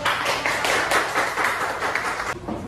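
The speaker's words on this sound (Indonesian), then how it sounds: "Oke, berikan aplaus." A classroom group claps after a group presentation, several people clapping briskly and fairly close for about two seconds before it stops abruptly.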